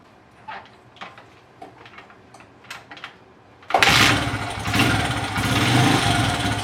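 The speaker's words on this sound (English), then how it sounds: "the bike kicked over like first kick, literally no problem to get it started" An Apollo RFZ dirt bike is kicked a few times after quiet shuffling, then the engine fires up on the kick and settles into a loud, close, steady idle with a slight rev.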